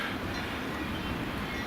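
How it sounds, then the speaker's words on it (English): A Santa Express steam train pulls into Watchet station near the paper mill, heard as a continuous low rumble of rolling carriages with faint rail clatter, moderately distant and steady, without talk. "entering WATCHET station."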